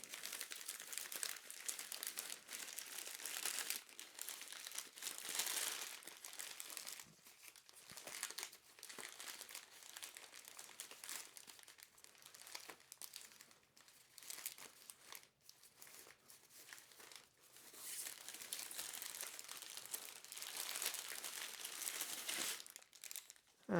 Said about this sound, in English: let's go ahead and open up the package by, of course, loosening the ribbon by untying it